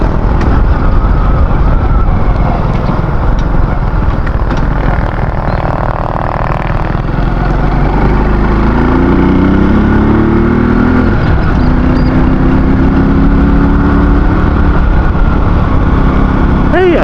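A motorcycle engine runs steadily throughout while riding toward a mountain resort, a continuous low drone with shifting pitch as it moves, loud and close, with voices talking over it at times.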